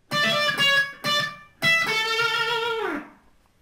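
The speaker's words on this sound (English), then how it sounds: "we're going to play this little hammer-on pull-off" Distorted electric guitar playing a short melodic rock lick with hammer-ons and pull-offs: a few quick picked notes, then a sustained note that bends and fades out.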